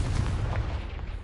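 A Confringo blasting spell from Hogwarts Legacy erupts as a dense, rumbling explosive burst that stays loud and heavy through its short span.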